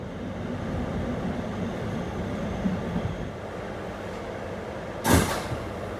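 An R211 subway shuttle train rolls between stations with a steady low rumble and rattle heard from inside the car, and a short sharp hiss bursts out near the end.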